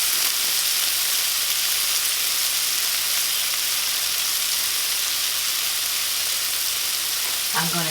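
Salmon frying in a hot pan, a loud, dense, even sizzle hissing continuously up close, with a brief voice at the very end.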